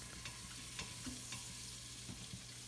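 Garlic sautéing in an Instant Pot gives a steady, low sizzle, with a few faint scrapes of stirring scattered through it and no talking.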